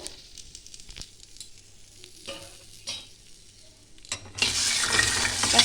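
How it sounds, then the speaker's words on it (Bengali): Jackfruit seeds that were washed and sun-dried are dry-roasted in a pan, scraping and stirring in light scattered strokes before a loud, dense sizzling rattle swells up near the end. "এবার এটা আমি একটু কোড়াতে একটু হালকা করে নেড়ে নেবো"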